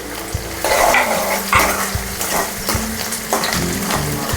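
Green chillies fry with onions in a hot pan for bitter gourd curry, a loud sizzle broken by repeated scraping stirs and light clinks of a spoon against the pan, with no talking.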